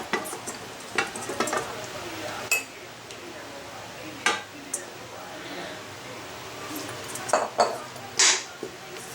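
Chicken feet frying in a pan for Filipino adobo, a continuous sizzle under scattered clanks of a utensil against the pan and occasional speech.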